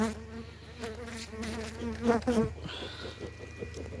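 Honeybees from a weak three-frame colony buzzing steadily nearby, a dense insect drone with one bee rising and falling in pitch as it passes close, fairly faint.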